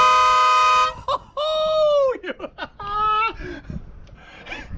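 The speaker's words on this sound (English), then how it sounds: "So let's get this air horn to work." A salvaged air horn from a classic VW Beetle blares a long, loud, train-like tone, then gives several shorter bursts and a sustained second blast, with laughter and voices mixed between the honks.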